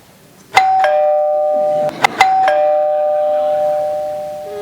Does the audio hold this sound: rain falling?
no